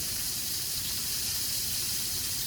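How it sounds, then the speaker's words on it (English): Butter and garlic sizzle in a hot pan alongside a steak, a steady, loud, continuous hiss with crackling underneath that holds evenly throughout without pause. "you're adding your garlic, along with your butter that you cut up"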